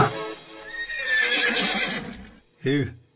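A horse at a festive celebration gives a short, loud whinny near the end, after a stretch of busy crowd noise and talking.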